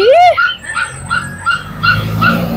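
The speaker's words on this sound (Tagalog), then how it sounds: "Ibig sabihin, tuta ito." A puppy at a pet market gives a rising whimpering yelp followed by a rapid string of about six high yips, close and loud, with faint murmuring from people in the background.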